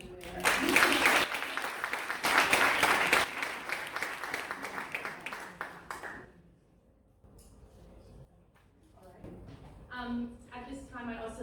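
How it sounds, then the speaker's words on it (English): At a Future Leaders induction and closing ceremony, an audience claps loudly for about six seconds before the applause stops abruptly, followed by quieter room noise and a voice speaking. "We'll give him a clap just for being everywhere."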